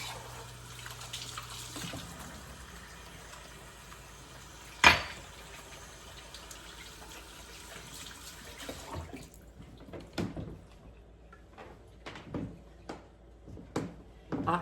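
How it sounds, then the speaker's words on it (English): Running water from a faucet while washing hands in a home kitchen during baking, a faint steady flow followed by scattered light splashes, clicks and clatters. "Let me wash my hands again."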